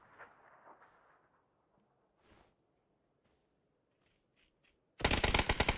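Rapid automatic gunfire from a PUBG match bursts in loud and close near the end, following a few seconds of near silence with faint distant shots.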